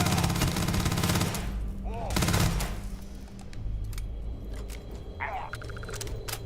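Gunfire at pirates in the Starfield space game: heavy bursts of automatic fire up front, then scattered shots and game noises with brief voice-like sounds.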